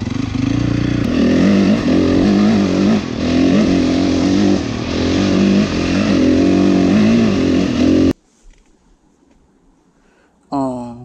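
A Honda dirt bike engine revs loudly and close for about eight seconds in repeated surging pulses, then cuts to near silence before a brief rising rev returns at the end.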